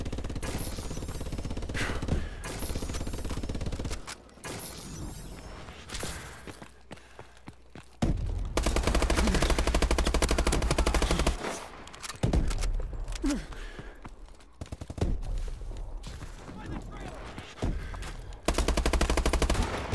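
Deployed turrets in a video game firing rapid automatic bursts, with loud stretches of gunfire broken by short pauses and a few scattered single shots.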